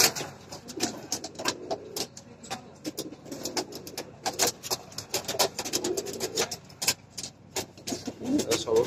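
Frightened pigeons being moved to a new coop coo and scuffle, with repeated sharp wing flaps and scrabbling bursts over low cooing, fairly close.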